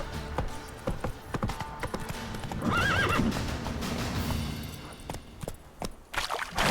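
Roach, a horse in a video game, trots with steady clip-clop hoofbeats, and a clear, wavering whinny rises in the middle before the hooves carry on, close and fairly loud.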